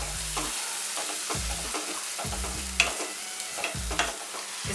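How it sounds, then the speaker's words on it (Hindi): Onion paste frying in oil in a pan while being browned for a dhaba-style egg curry, with a steady sizzle broken by regular, roughly once-a-second scraping strokes of a spoon stirring the mixture, close and moderately loud. "दो बड़े प्याज की पेस्ट। इसे अच्छे से ब्राउन होने तक भून लेते हैं।"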